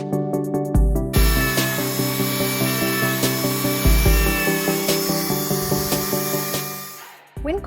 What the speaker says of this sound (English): Using the sphere burr to carve the radiuses on the top of the seat back was super simple.